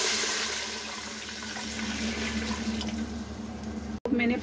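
Water splashes into a cooking pot holding oil and whole spices for vegetable biryani, a steady rushing pour that runs for several seconds before stopping abruptly and briefly resuming.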